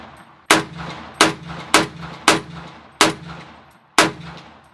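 A .50 caliber rifle fires six heavy, sharp reports spaced roughly half a second to a second apart, each with a ringing metallic tail, loud and close with no talk.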